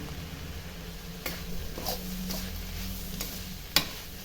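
Curry leaves and small onions fry in oil for sura puttu. A steady quiet sizzle runs throughout, with a few distinct stirring scrapes and taps against the pan and one sharper click near the end.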